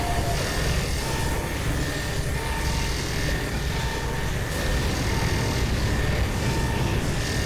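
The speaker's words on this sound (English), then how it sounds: "climb up and start the rotors" Helicopter rotors starting up in Black Mesa, a steady, loud mechanical roar and whine that holds evenly throughout with a faint rhythmic thrum underneath.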